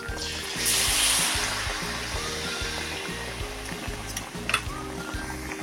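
Steady crackling sizzle of batter-coated biscuits frying in hot oil, continuous and close, with a low droning hum underneath and a brief louder burst of bubbling near the start.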